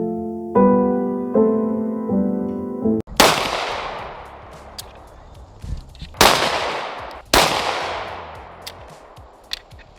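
Three sharp gunshots from a Shadow Systems CR920XP pistol firing P1 ammunition at an outdoor range, each a loud crack with a ringing decay, spaced a few seconds apart, following a brief tonal sound at the start.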